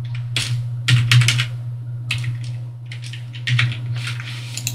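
Password typed on a computer keyboard: bursts of quick, close key clicks with short pauses between runs, alone with no talking.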